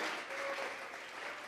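A church congregation claps steadily during a worship service, a dense, even wash of many hands offered as praise, moderately distant and sustained without a break.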